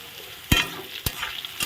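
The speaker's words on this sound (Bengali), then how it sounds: "হলুদ লবণ দিয়ে একটু ভালো করে নেড়ে দিচ্ছি।" Onions frying over low heat with turmeric and salt, stirred with a few distinct scrapes against the pan over a faint sizzle.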